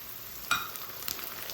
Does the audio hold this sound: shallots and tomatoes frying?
yes